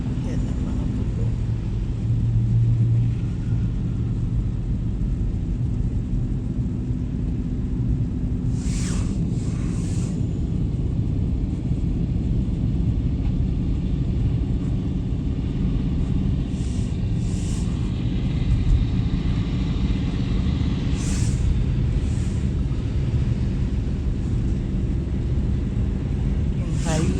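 Highway traffic in Brampton, Ontario produces a steady, distant low rumble that runs throughout, with someone talking over it.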